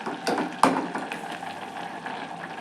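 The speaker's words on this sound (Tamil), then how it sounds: "இது நல்லா கொதிக்கிட்டேன்" Bottle gourd payasam with milk, cardamom and edible camphor bubbling in a pot, a steady soft simmering hiss with faint watery churning and a brief louder splash or clink early on, no talk.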